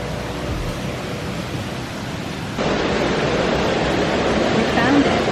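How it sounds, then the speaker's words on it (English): Rushing water from small cascades on the Mullerthal trail in Luxembourg makes a continuous broadband roar that grows louder partway through as the listener draws closer. "You can really hear the water now."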